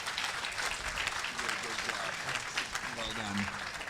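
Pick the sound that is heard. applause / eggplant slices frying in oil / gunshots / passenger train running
applause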